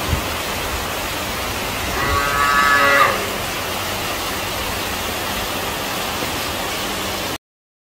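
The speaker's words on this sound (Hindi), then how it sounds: "बेचारी गाय चिल्ला रही है।" A single drawn-out cow moo rises above steady rain and wind noise, lasting about a second before the downpour continues alone.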